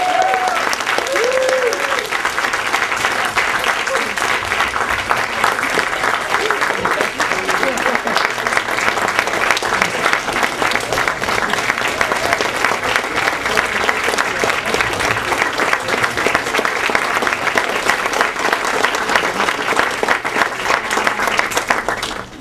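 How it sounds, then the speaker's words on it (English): Audience at the Golden Apple Awards claps steadily and loudly for over twenty seconds, dense sustained applause from a large crowd with a voice briefly heard at the start. "Go ahead and clap."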